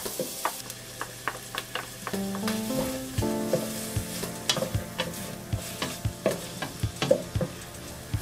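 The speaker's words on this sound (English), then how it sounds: "And now I'll saute these until the onions get a little bit of color." Onions sautéing in a pan, with a soft sizzle under repeated sharp clinks and scrapes of a utensil stirring against the pan, close and fairly regular, and a low hum running beneath.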